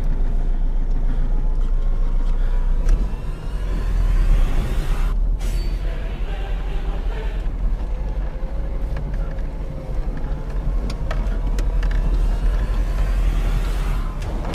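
A car engine running badly rumbles steadily and loudly for the whole stretch, a heavy low drone with irregular rattles and brief dropouts, close by and with no talk.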